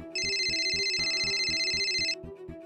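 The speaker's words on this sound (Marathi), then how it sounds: "सौमित्राचा फोन" A mobile phone ringtone sounds in a Marathi TV serial scene: a bright electronic melody over a steady ticking beat, ringing clearly for about two seconds before the melody cuts off.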